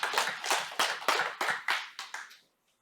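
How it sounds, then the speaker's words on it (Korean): A church congregation claps in unison, about nine sharp rhythmic claps close and loud, then stops abruptly into silence. "우리 하나님께 영광을 박수하겠습니다"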